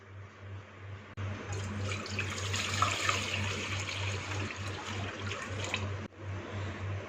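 About 1.5 kg of milk pours steadily into a pan in one continuous, close, gushing stream, with a low hum underneath, stopping abruptly near the end; the milk is for kalakand.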